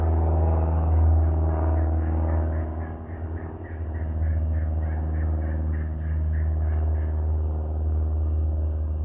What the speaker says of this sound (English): there's a plane now too